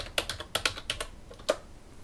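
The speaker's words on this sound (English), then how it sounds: "Now I can type Firefox" Computer keyboard typing, a short burst of quiet, close, irregular key clicks with a final louder keystroke, no talking.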